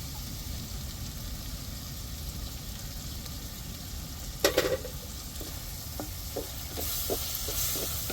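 Chicken cooking in a pan with yogurt and dried red chillies added, giving a steady low sizzle, one loud clatter midway, then a run of light rhythmic spoon taps against the pan.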